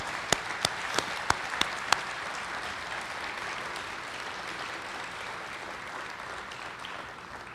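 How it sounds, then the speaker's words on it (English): Sustained applause from a crowd at an athletics Hall of Fame induction celebration as current Hall of Famers stand to be recognized, steady and even throughout, with a few sharp claps standing out near the start. "Big round of applause."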